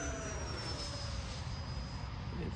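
Freewing Mirage 2000 80mm electric-ducted-fan RC model jet making a fast pass, a steady loud whooshing roar with a high whine that holds throughout, close by with no voices.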